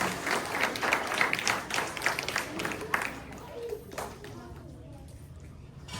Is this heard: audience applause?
yes